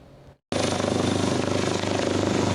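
Rescue helicopter in a news report on a cable-car rescue between two mountains, its rotor and engine roaring loud and steady with a rhythmic beat after a brief quiet moment.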